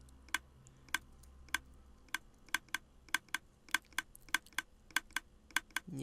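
Clicking from a Minecraft redstone circuit: about sixteen sharp, close ticks at a steady, slightly uneven pace over six seconds, with no voices.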